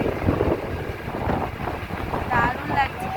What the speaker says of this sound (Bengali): ওইদিকে আরো একটা নৌকা আসছে